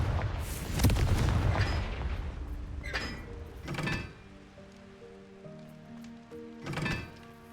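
Fiery Confringo spell explosions in the Hogwarts Legacy game, several booming blasts with crackling bursts over a rumbling low background and soft tonal game music, fairly loud and close.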